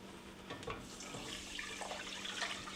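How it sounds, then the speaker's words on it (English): Beef broth poured over uncooked rice for pilaf, a short close stream of liquid splashing and trickling into the pan, soft and brief. "We're going to add our beef broth."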